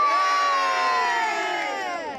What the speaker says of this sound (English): So can we have one final cheer?